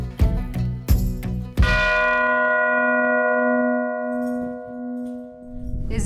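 Church bell struck several times in quick succession, then a final stroke left to ring out, its bright metallic tone hanging and slowly fading alone.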